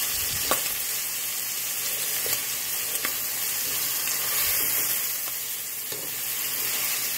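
Ground pork sizzles and fries steadily in a pan while browning for a gluten-free Zuppa Toscana, with occasional scraping stir sounds cutting through the constant crackle.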